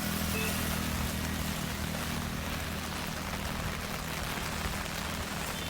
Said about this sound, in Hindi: रांची में लगातार झमाझम बारिश हो रही है।